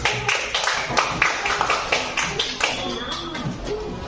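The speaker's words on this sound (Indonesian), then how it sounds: "beri tepuk tangan untuk kelompok 1" Classmates give group 1 a round of applause in an Indonesian classroom, with quick, uneven claps from a modest crowd over room murmur and some shuffling.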